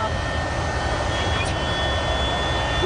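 Chartered airplane in Papua heard as a continuous broad engine roar, loud and steady throughout with a faint high whine, no distinct changes.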